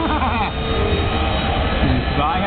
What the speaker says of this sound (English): The jet has now ignited.